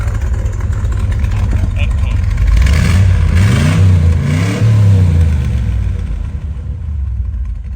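A 1969 Chevrolet Corvette engine idles with a deep rumble, then revs up several times in quick succession before settling back, loud and close, with someone talking over it.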